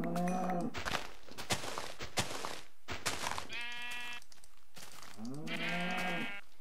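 Cow mooing in Minecraft, a low, drawn-out bovine call that rises and falls. Bleating sheep calls repeat among the moos, all loud and close with no talk.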